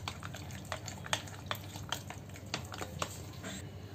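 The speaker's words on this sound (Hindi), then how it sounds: "प्याज टमाटर बहुत अच्छे से इसे मिक्स करेंगे" Potato, onion and tomato being stirred into rice flour batter, a soft run of wet squelches and light clicks against the bowl, close and fairly quiet, with no talk.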